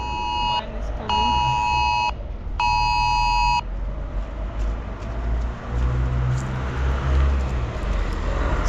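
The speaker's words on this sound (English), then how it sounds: "sometimes you get an alert on your phone" A phone sounds an emergency alert in a Ukrainian city during the war, with two long loud electronic beeping tones over steady outdoor city noise and passing traffic, followed by continuing street ambience.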